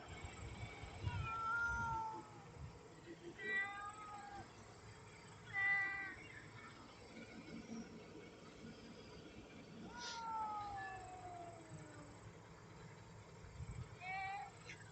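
A housecat growls at another cat in several short, moaning yowls spaced across the stretch. The sound is fairly quiet and close, with a low background hum between the outbursts.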